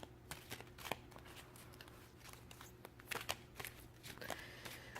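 A Cook's Tarot card deck being shuffled by hand nearby, giving a soft run of papery riffles and flicks in uneven bursts over a low steady room hum.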